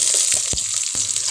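Garlic browns in a pan for tinulang manok, a close, bright sizzle running steadily under a few soft knocks and scrapes of a utensil against the pan.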